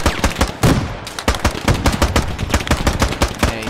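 Rapid, loud gunfire cracks close by in the Squad video game, a steady rhythm of repeated shots with a brief pause near the start, alone without talk.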